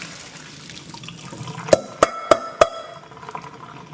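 Water drains from a pot through a spider strainer, a faint running trickle broken by four sharp, evenly spaced knocks or splashes close by.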